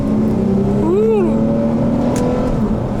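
A car engine revs hard toward 5,000 RPM, a loud steady drone with a rising and falling whine in the middle, close by.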